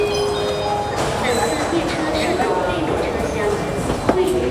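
An MRT train pulls into a station at six in the morning on a trip through China, a steady rumbling roar of rail noise filling the platform with a brief sharp clack near the end.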